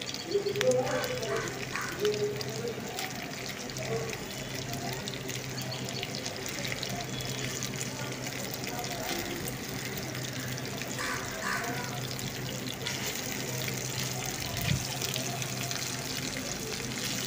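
A steady, broadband hiss of mrigal fish frying in oil over medium heat fills the clip, close and continuous, with a voice talking faintly at times beneath it.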